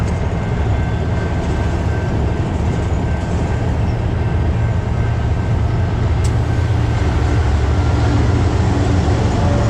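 A train passes while a harvest truck waits at the crossing, a loud, steady rumble and rattle of rolling wagons that stays constant and close throughout, with no talk.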